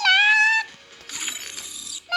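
A cat meows in the Free Fire video game, one clear tonal meow up front, then a brief mechanical rattle and a short trailing chirp at the end, with no talking over it.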